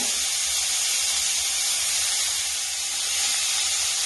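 Small onions sautéing in a pan for a ladyfinger curry, giving a loud, steady, continuous sizzle and hiss with no pauses.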